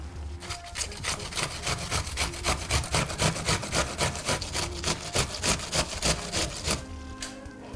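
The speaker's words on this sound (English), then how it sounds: "And I'll grate the onion." Half an onion rubbed against a grater in a kitchen, steady rapid rasping strokes in an even rhythm, close and fairly loud with no talking.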